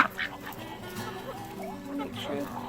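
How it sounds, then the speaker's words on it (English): Ducks quack and honk close by during a feeding, several rough calls scattered among a person's voice talking over them. "Oh, duck, duck."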